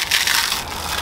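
Crispy Parmesan is crushed over a chicken sandwich, giving a steady, close crackling crunch with dry brittle breaking that runs throughout, with no talking.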